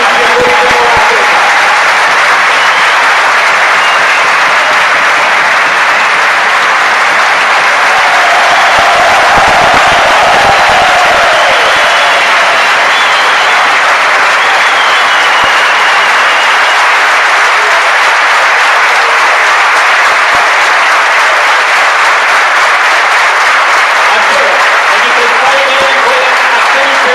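Sustained audience applause at a veterans' handball match in Macedonia between Pelister and Macedonia, steady dense clapping throughout with a brief swell near the middle, crowd noise underneath.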